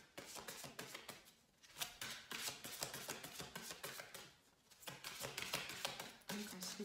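A deck of playing cards being shuffled by hand in quick, crisp riffling bursts with brief pauses, close and fairly quiet.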